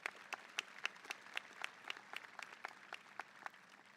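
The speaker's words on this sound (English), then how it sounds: "round of applause for our scholar athletes" Scattered, faint hand claps from a fairly small number of people at a high school graduation ceremony, honouring scholar athletes, each clap a distinct sharp snap in an uneven, loose rhythm.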